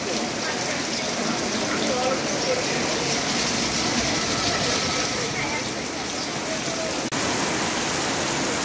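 Heavy morning rain pours onto a rooftop in Natore, a loud, dense, unbroken roar of drops that fills the whole stretch without pause.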